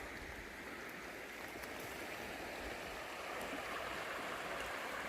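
A low-running river flows in the wild at a campsite, making a steady broadband rush and gurgle that holds even and fairly faint throughout, with no voices.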